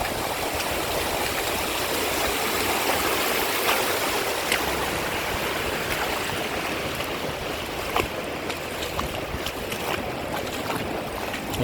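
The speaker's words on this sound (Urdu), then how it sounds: "یہاں پانی کے بہاؤ کا ایک خوبصورت منظر، آبشار ہی آبشار۔" A fast-flowing stream pours over cascades of waterfalls, a loud, dense and unbroken rush of water close by with no voices.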